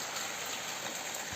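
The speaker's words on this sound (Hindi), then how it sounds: "लेकिन बारिश रुकने का नाम नहीं ले रही है, अभी भी लगी हुई है झमाझम।" Heavy rain pours down steadily in Uttarakhand, making a dense, constant hiss with no other sounds in a short stretch.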